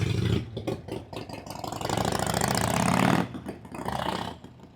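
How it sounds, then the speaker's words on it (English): Harley-Davidson motorcycle engine idling and warming up with a loping, uneven potato-like exhaust beat, fairly close and steady, with a brief dip in the middle. "Somebody's firing up a Harley with its distinctive potato exhaust sound caused by its offset crank pin"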